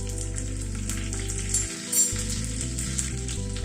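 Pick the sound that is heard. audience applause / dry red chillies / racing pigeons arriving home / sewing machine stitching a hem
dry red chillies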